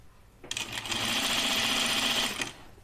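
A sewing machine runs in one steady, close burst of about two seconds while stitching a Myrna dress, its rapid even whir starting and stopping abruptly with no voices.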